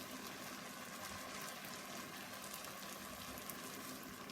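Mushroom and spinach risotto cooks in a pan just after more liquid is added, giving off a steady, even sizzling bubble with no talking.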